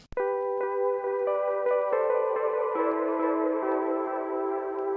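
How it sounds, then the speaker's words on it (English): Sustained electronic keyboard notes run through the RC20 Retro Color plugin for wobble and vinyl noise, a sharp click and then a string of ringing, overlapping tones that step through a melody and blur together with a lingering echo. "It's adding a little bit of wobble and then a little bit of vinyl noise"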